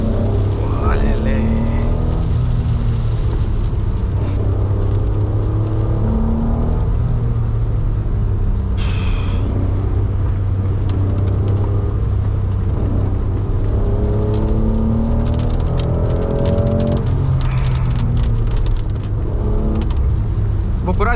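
A 1991 Honda NSX sports car driving, its engine rising and falling in pitch through revs and gear changes with steady road rumble underneath, loud and close throughout, with voices talking over it.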